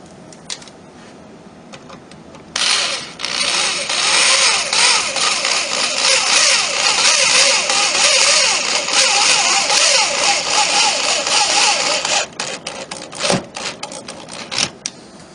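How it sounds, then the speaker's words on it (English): A drill bores 1/8 inch pilot holes and drives 1 1/4 inch screws into wood boards while a wooden medicine cabinet is built. A loud, steady motor whir runs for about ten seconds, then trails off into short bursts and clicks. "I'm using a 1/8 inch bit for the pilot holes. The boards are attached using 1 1/4 inch long screws."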